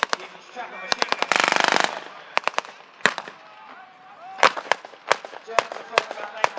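Machine gun fire during a WWII battle display at a tank museum show, with a gun mounted on a Willys Jeep. One long rapid burst is heard alongside scattered single blank shots near and far, with a commentator's voice running underneath.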